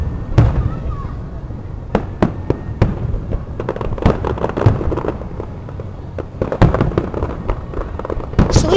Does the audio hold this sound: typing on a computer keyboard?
no